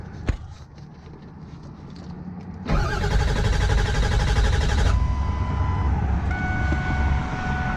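A broken-down Ford Powerstroke diesel engine cranks without starting, with a loud, steady, rhythmic starter churn lasting about two seconds that then cuts off, amid background traffic noise.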